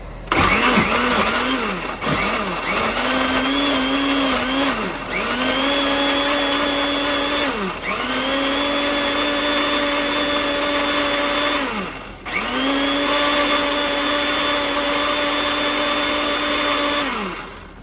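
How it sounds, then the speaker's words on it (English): A blender whirs loudly in several long bursts while blending pozole ingredients, its motor pitch rising and settling, with brief pauses between runs. "it's a blender. Blend it."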